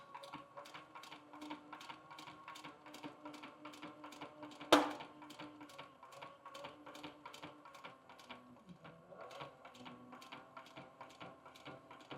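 Sewing machine stitching leather for a flip-top shave kit: steady rapid mechanical stitching rhythm, close and fairly quiet, with one sharp knock partway through and a slight change in pace later.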